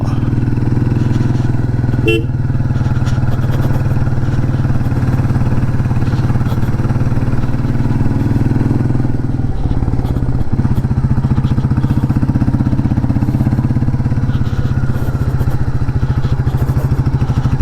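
Motorcycle engine in second gear climbing a steep hill road, a loud, steady, labouring drone close up throughout with wind rumble and a brief clatter, no speech.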